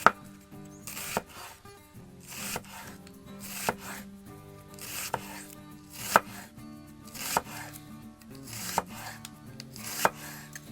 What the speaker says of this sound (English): And then I'm going to take my red onion, I'm going to slice it down in half.